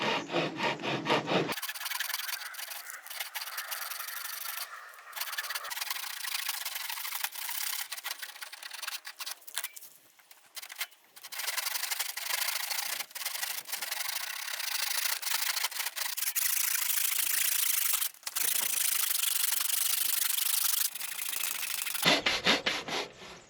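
A wooden pergola brace piece worked by hand, with steady rasping strokes of wood being cut or chiselled heard up close over a long stretch, briefly pausing partway through, with no voices.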